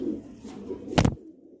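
Kalshira pigeons cooing in a low, murmuring run, with one louder burst near the end before the sound drops away.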